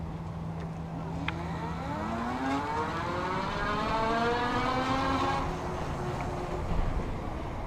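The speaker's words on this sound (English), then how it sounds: "So let's do that just so you can kind of hear the motor doing its thing." The geared hub motor of an iZip E3 Metro e-bike runs on throttle from a standstill. It gives a faint, rising electric whine that climbs steadily in pitch for several seconds over road and wind noise.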